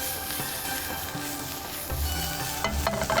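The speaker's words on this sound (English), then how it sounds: "Now I'll just saute them quickly" Ingredients sautéing quickly in oil in a pan, a continuous bright sizzle with soft stirring scrapes that grow busier and louder toward the end, no talking.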